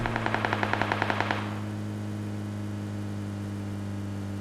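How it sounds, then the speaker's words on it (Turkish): Rapid burst of automatic gunfire during a firefight in the video game PUBG Lite, about a dozen evenly spaced loud shots for just over a second, then only a steady low hum remains. "Güzel çatışma çıktı."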